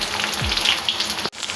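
Onions with cardamom and cloves frying in a pan, a dense close sizzle that holds steady, then cuts out for a split second before resuming.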